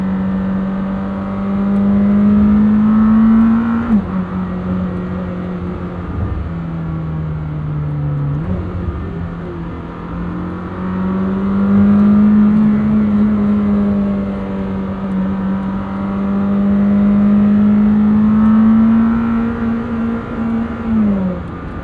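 A 2026 Lamborghini Temerario with a 907 hp engine pulls hard on greasy roads, its loud engine note climbing through repeated upshifts, each rising wail dropping sharply before building again.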